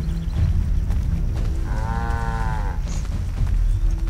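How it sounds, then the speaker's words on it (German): Cattle mooing in the video game Assassin's Creed 3: a single long, drawn-out moo rises over a steady busy game ambience of low rumble and background noise. "Oh, Kühe. Dicke, fette Kühe."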